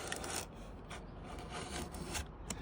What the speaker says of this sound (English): I'm going to cut here between the glass and the seal. And behind there is a piece of metal flange that holds the seal in. I rub against that all the way down.